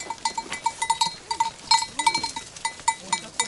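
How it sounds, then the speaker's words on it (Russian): Goats on a rural farm near Alanya, Turkey, make a run of short, rapid calls that pulse in quick succession at close range, with bells clinking among them and no talk over it. "что это за вот такой вот интересный козлик?"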